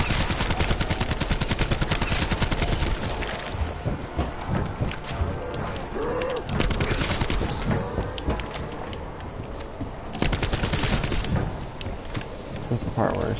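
Dense, rapid gunfire rattles through a Call of Duty Tag der Toten zombies match, loud bursts near and continuous, broken briefly by quieter moments, while a voice talks over the shooting.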